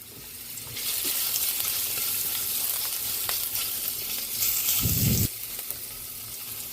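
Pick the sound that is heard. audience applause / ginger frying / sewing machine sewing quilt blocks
ginger frying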